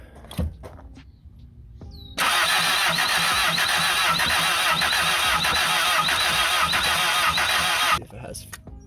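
A barn-find Toyota TE72 wagon with fried ignition wires cranks with the throttle held wide open but never fires. The starter whirs loudly and steadily for about six seconds, with faint sounds just before it.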